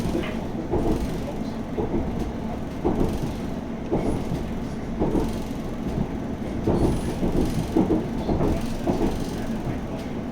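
South Western Railway passenger train running between Windsor & Eton Riverside and Datchet, heard from inside the carriage: a steady rumbling roll with rhythmic wheel clicks over rail joints and soft rattling, continuous and fairly loud.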